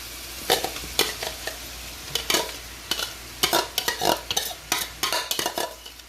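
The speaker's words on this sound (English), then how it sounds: "Stir that around for a little while. Add all your codfish." Codfish with parsley sizzles gently in a pan while a utensil stirs it. Repeated sharp scraping strokes come in quick irregular clusters over a low frying hiss, close up and with no speech.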